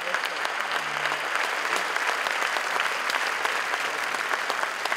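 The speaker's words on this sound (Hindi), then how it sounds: "जोरदार तालियां हो जाए।" Sustained, dense applause from a stage-show audience fills the whole stretch, steady and fairly loud, with a brief low tone near the start.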